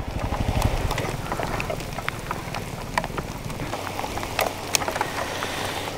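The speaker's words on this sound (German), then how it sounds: "es hagelt einfach und wir sind mittendrin" Hail pelts down during a motorcycle enduro trip in Albania, a dense, steady patter of hard clicks and taps on surfaces, with a low engine-like rumble underneath early on.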